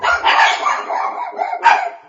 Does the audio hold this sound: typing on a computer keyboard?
no